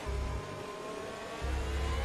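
McLaren Formula 1 car in the F1 2021 game at the Canadian Grand Prix, a brief engine whine rising and fading as it runs close behind another car, faint and steady.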